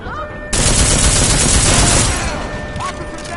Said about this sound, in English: Live fire reported.